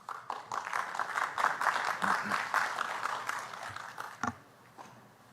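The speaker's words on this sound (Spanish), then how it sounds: "La recibimos con un fuerte aplauso, por favor." Audience applause welcoming a judge of Lima's Superior Court of Justice to a legal seminar, a few seconds of moderate, fairly distant clapping that fades, with a brief voice near the end.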